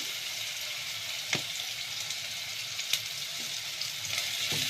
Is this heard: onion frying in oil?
yes